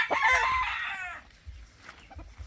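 A rooster, a Boston cross fighting cock, crows loudly and close for about a second, followed by a few soft clucks and low farmyard noise, with no voices.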